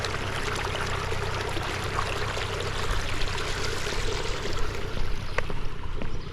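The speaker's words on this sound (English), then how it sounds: "They're letting in the water there, flooding it." Water rushes and pours steadily as it is let in to flood the grounds of a famous shrine, a continuous broadband flow that swells slightly louder toward the end, with no talk over it.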